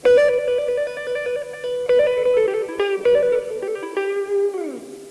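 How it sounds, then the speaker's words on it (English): Rapid electric guitar trills ring out, quick alternating notes fluttering over sustained tones with a few bends, clear and up close with no talking. "If you add the two techniques together, you can get trills"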